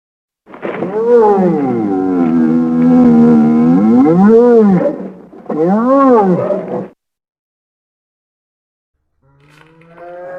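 Two long, deep designed creature roars for a Bantha from Star Wars, with a bellowing, moaning pitch sweeping up and down, followed by a pause and then a third roar starting.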